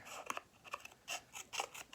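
Scissors cut through a sheet of painted paper in four or five quick, crisp snips spaced evenly apart, close and fairly quiet, with no talking.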